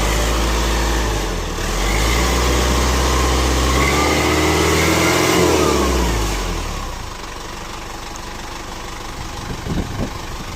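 A farm tractor's engine runs close by, revving up into a loud, rising roar over the first few seconds, then dropping back to a lower idle, with a knock near the end.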